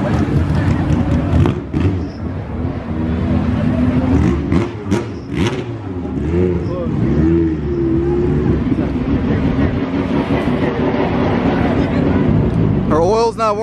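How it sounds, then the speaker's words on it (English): An Audi S3 8Y with a TTE700 turbo revs at a drag strip on oil that is not fully warm, its engine droning loudly and rising in pitch, with people talking over it and wind buffeting the microphone. "Her oil's not warmed up the whole way, so she can't rev all the way out."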